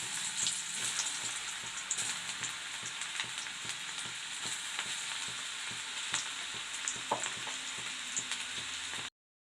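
Crisp okra (lady's finger) pieces fry in oil with a close, even crackling sizzle and light stirring clatter throughout, then stop abruptly.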